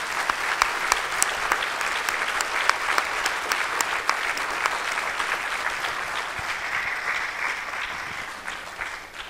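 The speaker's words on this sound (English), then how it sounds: "may I invite all the audience, we give a round of applause for George for his birthday" An audience at a panel discussion forum applauds for a birthday, many hands clapping in a loud, sustained round with sharp individual claps standing out, gradually fading near the end.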